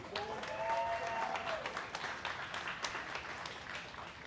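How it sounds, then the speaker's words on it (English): Audience applause at a stand-up comedy showdown, a crowd clapping to vote for a comedian; steady, moderately loud clapping that thins slightly toward the end, with a brief voice or whistle-like tone near the start. "By round of applause, we're gonna pick the best."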